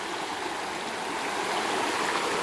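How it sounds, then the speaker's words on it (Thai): A clear stream rushes steadily beside a waterfall campsite at Ta-Yai waterfall in Nakhon Nayok, a loud, continuous broadband wash of flowing water close by, with no voices. "แล้วก็มี ลำธารสวยงาม"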